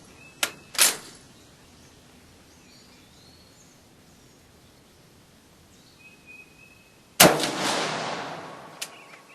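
Shots from a Steyr M95 carbine at a 50-yard range: two sharp cracks close together near the start, then a long quiet gap before a third loud report with a trailing echo.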